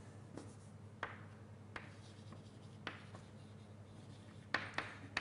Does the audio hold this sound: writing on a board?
yes